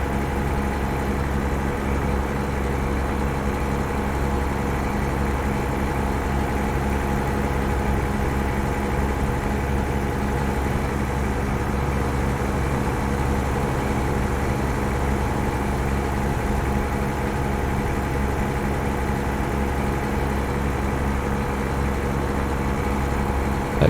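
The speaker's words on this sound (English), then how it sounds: "enjoy the sounds of the truck." A truck in American Truck Simulator idles with a steady, deep engine rumble that stays constant and loud throughout, alone with no voices.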